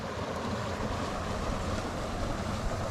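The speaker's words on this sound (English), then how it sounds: "That's the water from the pumping station being pumped into the canal." Water from a pumping station pours into a canal, a dense, steady roaring rush at close range that stays constant with no voices.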